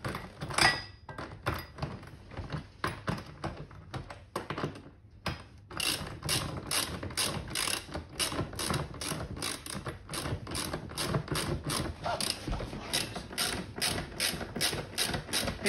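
Bolts are tightened on a Berg steel trailer XL, producing a steady run of quick metallic ratchet clicks, close and moderately loud, with a brief pause before the clicking resumes.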